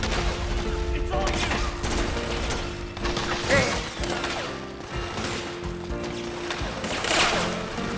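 Rifle fire in Metal Gear Solid 4 crackles through a busy game mix, with sharp shots scattered across several seconds over music and mechanical effects.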